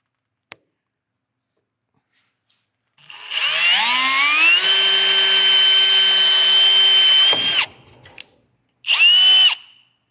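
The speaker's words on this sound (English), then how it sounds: "If you align your drill bit right at the center where the stem was," A drill bores out a stainless steel rivet at the center of its stem during an EZLink install: a loud, close whine climbs in pitch and holds for about four seconds, then a second short burst follows after a pause.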